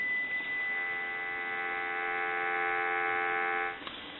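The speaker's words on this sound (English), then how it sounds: "Give you some dial tone." A steady telephone dial tone on a Western Electric Spacesaver phone line hums evenly for nearly four seconds, then cuts off with a small click; close, unvarying and alone, with no voices.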